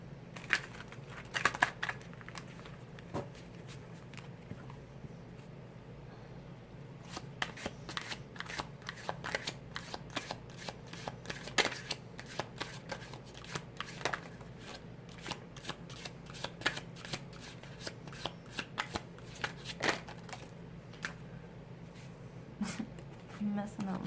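Oracle cards are shuffled by hand in a quiet room, a steady run of soft, rapid riffling and slapping taps that pauses briefly early on, then carries on close and continuous, with a voice speaking softly throughout.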